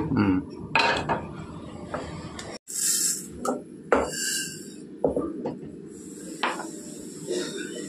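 Tomatoes, an onion and green chillies are chopped for tomato dal in a home kitchen, with scattered knife knocks and utensil clinks at an uneven pace, close by.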